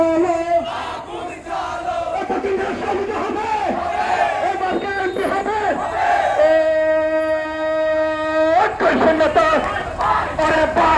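A crowd at a BNP rally for Victory Day in Banskhali, Chattogram, chants slogans in loud, rhythmic unison. Many voices rise and fall together, and a long held shout swells near the end.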